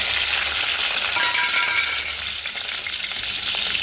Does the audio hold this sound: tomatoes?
yes